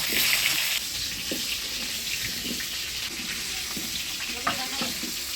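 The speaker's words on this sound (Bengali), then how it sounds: "এবারে মাংসটা দেওয়ার জন্য আলুগুলো ভাজি নেব" Potatoes frying in hot oil for a Bengali mutton curry, a steady broadband sizzle and crackle with occasional stirring clicks, fairly close and continuous throughout.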